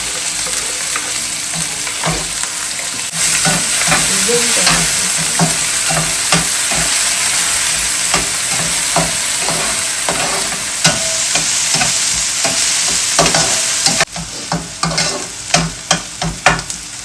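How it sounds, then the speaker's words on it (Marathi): One and a half onions browning in oil in a shallow pan, a steady close sizzle with frequent scraping stir strokes, loud throughout and without speech. "कांद्याला छान ब्राऊन होऊन द्यायचं आहे"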